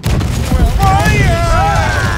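Ship cannons fire in the naval game Blackwake, heavy booming shots rolling into a dense barrage of dull thuds, with shouted voices and tonal game sounds layered on top.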